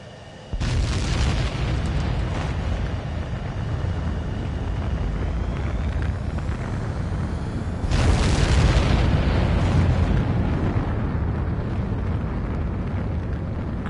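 A fighter jet takes off in Ace Combat 7: a loud, sustained engine roar starts abruptly, holds steady, then surges louder partway through as thrust builds, with no one talking.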